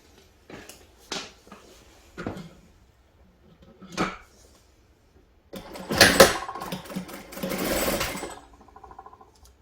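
Sewing machine stitching a trouser zipper: a few short separate bursts of stitching, then a louder, longer run of rapid mechanical clatter close by. There is fabric handling between the bursts.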